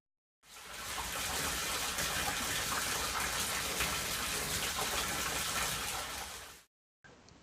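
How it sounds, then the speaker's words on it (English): Water gushes from the filter of a homemade bait tank back into the tote. The pour is a steady, close splashing rush that runs for about six seconds and then stops, followed by a short burst of the same flow. "The water then comes out of the filter and back into the tank."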